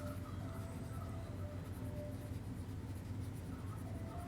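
Marker or chalk writing on a board during an algebra lesson, steady scratchy strokes over a constant low room rumble, fairly quiet and continuous with no talk.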